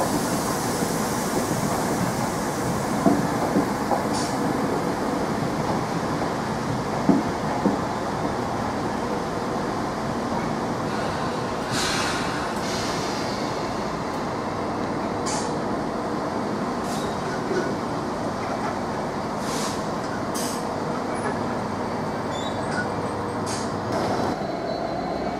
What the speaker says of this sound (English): we've got a zero unit now, shunting into platform 3 to work the 1052 service to London Liverpool Street